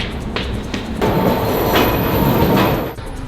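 A Toronto subway Line 2 train runs with a loud, steady rumble. Wheel noise and a high squeal rise and fall as it moves through the tunnel.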